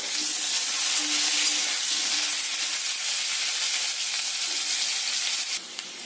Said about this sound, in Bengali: তেলটা গরম হয়ে গেছে, ওতে কেটে রাখা আলুগুলো দিয়ে দেব। আলুগুলো লাল লাল করে ভেজে নেব